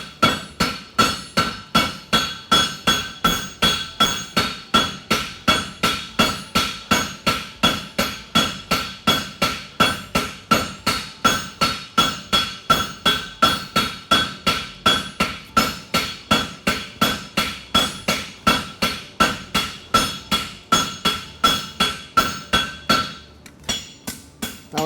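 A farrier strikes a horseshoe with a hammer on a fuller tool, sending out a long run of sharp, ringing metallic blows in a fast, even rhythm, loud and close, stopping near the end.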